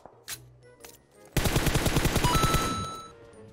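Gunfire in the video game PUBG Mobile starts with a couple of isolated shots, then a loud, rapid burst of automatic fire follows with an even, fast rhythm and fades out toward the end.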